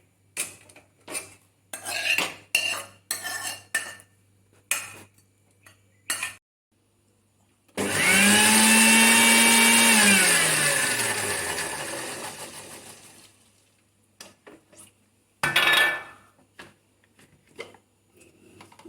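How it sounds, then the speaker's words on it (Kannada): Scattered clinks and taps give way to a long loud mixer grinder run that whines down in pitch as it stops, followed by more clinking. "ಈಗ ಇದನ್ನು ಮಿಕ್ಸಿಗೆ ಹಾಕಿ ನಯವಾಗಿ ರುಬ್ಬಿಕೊಳ್ಳಬೇಕು"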